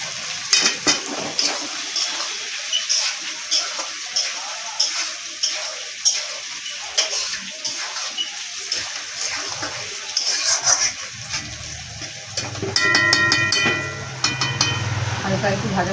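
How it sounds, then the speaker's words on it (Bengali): Potatoes frying with turmeric in a pan for a dried fish chorchori, a constant crackling sizzle with stirring scrapes, joined near the end by a louder spattering burst. "হলুদটা দিয়ে একটু ভাজা ভাজা করে নেব।"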